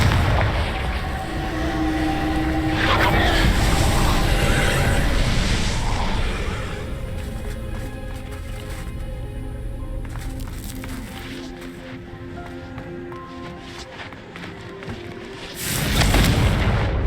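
Confringo blasting spells explode in the video game Hogwarts Legacy, giving loud, rumbling booms that run together for the first several seconds, then settle into a quieter rolling rumble before another heavy blast bursts out near the end.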